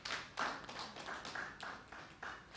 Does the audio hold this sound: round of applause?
yes